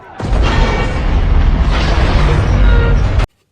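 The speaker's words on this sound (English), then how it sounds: "Bomb. There's a bomb right there." A bomb explodes in the Pearl Harbor film, a loud sustained boom with a roaring rumble that fills about three seconds and then cuts off abruptly.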